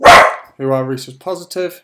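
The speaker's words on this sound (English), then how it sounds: "Sorry, that's my dog." A single loud, close dog bark bursts out at the start, then a person keeps talking over a quiet background.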